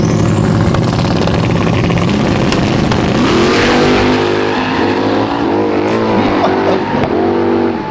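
A loud Mustang engine roars and revs up in a street race, pitch climbing through several gear shifts, close and continuous with no pauses.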